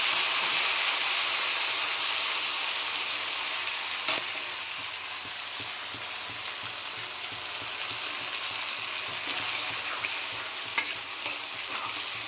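A ground paste of ginger, cumin, coriander, dried and green chilli fries in oil in a pan, giving a continuous hissing sizzle that stays close and steady, with a couple of spoon knocks and no speech.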